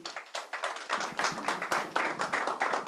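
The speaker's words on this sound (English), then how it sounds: "Another round of applause for Mohsin." An audience at a Deloitte/UKGCC webinar event claps in a quick, rhythmic patter of many hands close by, with no voices over it.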